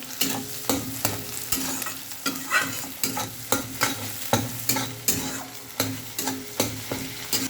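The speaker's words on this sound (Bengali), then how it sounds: "এরপর ভালো করে যেরকম করে ভুজিয়া হয় সেরকম করে খুন্তি দিয়ে ফাটাতে লাগলো ভুজিয়ার মতো" A spatula repeatedly stirs and breaks up food frying in a pan, producing rhythmic scraping strikes about twice a second over a continuous sizzle, close and loud with no talking.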